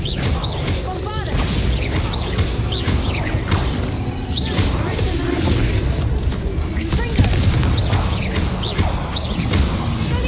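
Bombarda spell explosion in the video game Hogwarts Legacy, a loud booming blast with crashing impacts amid repeated spell-casting effects, spread across a busy stretch of combat sounds.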